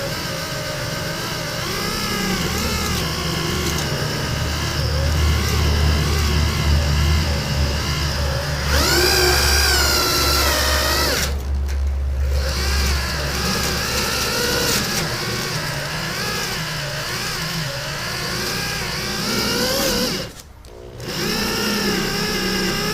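A power tool spinning a wheel to strip a decal whirs steadily at varying speed, its pitch rising and falling, with a couple of brief pauses and a voice near the end.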